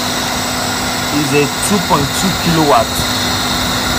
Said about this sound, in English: This is a 3 horsepower motor currently spinning right now.